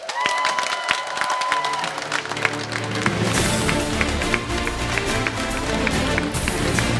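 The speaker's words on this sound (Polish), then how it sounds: "Wielkie brawa." Audience applause at a county award gala in Poland, clapping that starts as scattered claps and swells into dense, loud, sustained applause from a large crowd.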